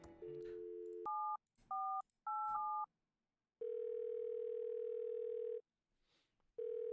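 Telephone in the video game Thimbleweed Park: a few short dialing beeps in quick succession, then a long steady dial tone, pausing and resuming, clear and isolated.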